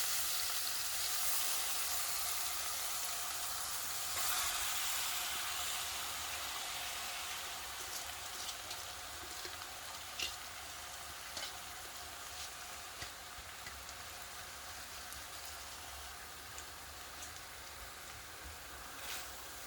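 Rice frying in hot ghee for Punjabi kadi chawal gives a steady, soft sizzle that eases slightly over time, with a few faint stirring scrapes and no voices.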